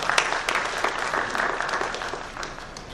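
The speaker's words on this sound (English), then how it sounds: "I'd like to ask you to applaud him" An audience at a government summit applauds the event's sponsor, a dense, steady burst of many hands clapping throughout, no talking over it.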